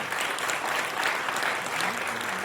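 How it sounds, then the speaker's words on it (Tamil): Steady applause from an audience fills an auditorium in an even, dense wash of clapping for a few seconds, heard at moderate distance without speech. "மிகப்பெரிய கரகோஷம் கொடுங்க இந்த அலர் அரங்கமே அதிர மாதிரி கொடுங்க"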